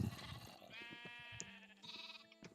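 Sheep bleating in the Minecraft video game, with several wavering bleats that overlap across the short span, fairly close and clear, with no talking over them.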